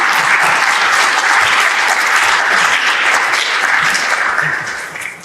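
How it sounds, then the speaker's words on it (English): Audience at a Scouting America Connecticut event breaks into loud, sustained applause, a dense crowd of clapping hands that holds steady before fading at the end. "let's give a round of applause as they make the welcome"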